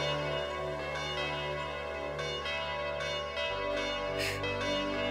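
A church bell rings in the PlayStation game Tokimeki Memorial 2, with sustained, resonant tolling layered over soft background music, steady and moderately loud with no speech.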